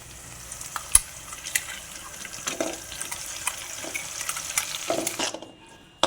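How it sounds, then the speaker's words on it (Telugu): Mint paste frying in oil for pudina pulao gives a steady close sizzle broken by scattered stirring clinks and scrapes, ending abruptly, with no talk. "సో నేను పేస్ట్ వేసేసుకొని ఆయిల్లో దీన్ని పచ్చివాసన పోయేంత వరకు కూడాను ఫ్రై చేసుకుంటున్నాను."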